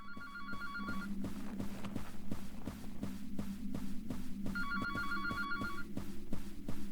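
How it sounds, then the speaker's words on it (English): A telephone rings twice in the video game Heart of the Killer, each ring a bright, trilling electronic burst over a steady low hum and throbbing ambient background, with no speech. "Where is the phone, actually? I mean, is it the phone outside?"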